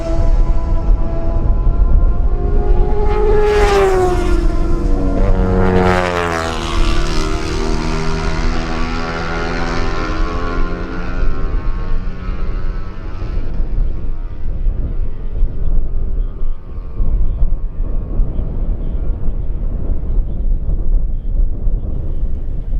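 Lightweight racing motorcycles, a Yamaha, Kawasaki and Honda at the Manx Grand Prix Lightweight Race, scream past loudly one after another, engine pitch rising and then dropping sharply as each bike passes close by, with steady engine roar lingering afterward.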